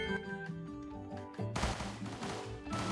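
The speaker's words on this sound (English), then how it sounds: "So notice he just has one bullet at a time here" A character in Kirby and the Forgotten Land fires single bullets in quick succession, a rapid string of short pops over game music, then a sudden loud burst of noisier gunfire.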